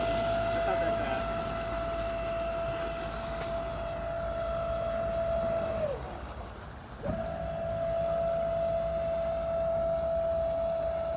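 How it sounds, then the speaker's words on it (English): An electric dinghy motor runs on the water with a steady, fairly quiet whine, cutting out briefly partway through before starting again, with wind and water noise underneath. "here's my first go at my electric dinghy"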